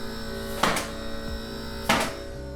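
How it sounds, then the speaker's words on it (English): Steady mechanical hum and whir of an old AB18 clothes dryer running, with two brief louder rattling bursts rising over the drone. "I'm on top of this dryer."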